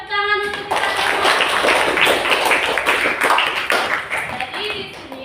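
An eighth-grade mathematics class claps together in a steady, dense burst of hand claps lasting several seconds, with a voice briefly heard at the start and the end.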